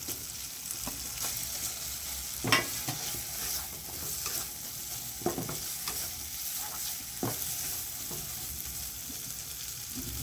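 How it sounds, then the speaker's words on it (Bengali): Prawns sizzle and fry in a cooked spice masala for Bengali doi chingri. Steady hissing continues throughout, with a few sharp clacks from stirring in the pan. "আমি এবারে চিংড়ি মাছগুলো দিয়ে দেবো"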